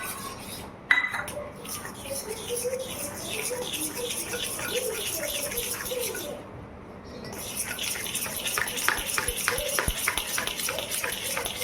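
Utensil clinks and scraping as besan batter is stirred in a pot for khandvi, with a short loud metallic knock near the start and a softer watery swish throughout; a voice speaks faintly now and then.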